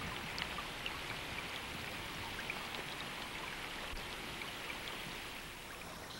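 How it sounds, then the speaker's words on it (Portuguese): A heavy rain storm pours steadily over floodplains and lakes, a dense continuous hiss of falling water with scattered close drops, loud and uninterrupted. "E à medida que a tempestade de chuva continua, as águas sobem mais ainda."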